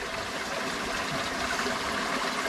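Steady rushing and babbling of creek water flowing continuously, fairly close, with no voices.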